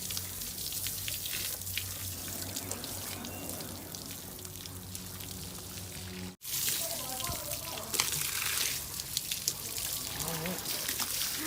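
Steady water running from a tap and splashing throughout, close by, with faint voices mixed in and a brief break partway through.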